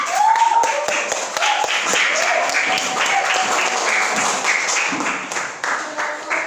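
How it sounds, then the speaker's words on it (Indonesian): A classroom of students claps together for everyone at the end of a school lesson, a dense, steady patter of hands under a teacher's voice and some tonal ringing. "Kita kasih tepuk tangan untuk semuanya."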